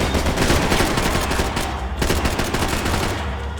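Sustained, loud gunfire from the video game Max Payne 3, a dense continuous volley of rapid shots with a brief dip near the two-second mark, then resuming at full intensity.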